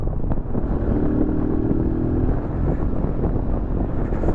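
A Zontes Scrambler 125 motorcycle being ridden, its engine a steady low drone under rushing wind noise, continuous and fairly close throughout.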